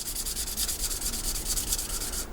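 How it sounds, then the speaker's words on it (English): A sanding stick is rubbed rapidly back and forth over the plastic of a 1/48 HobbyBoss F-14D Super Tomcat scale model, producing a close, quiet, rhythmic scratchy hiss of about a dozen quick strokes that stops abruptly. "getting the plastic back to a nice smooth surface after the coarse sanding stick damage"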